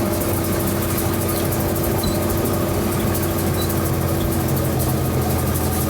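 A tractor engine drones at a steady drive speed of about 8 km/h with the power take-off running to spread fertilizer, a constant heavy mechanical hum and rumble with no voices.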